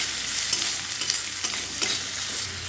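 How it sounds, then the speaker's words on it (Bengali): Onion fries in a pan on the stove for a home-style egg and eggplant curry, a dense close sizzle punctuated by quick scraping stirs, no voices. "তো পেঁয়াজটা আমি এখানে ভালোভাবে ফ্রাই করে নেব।"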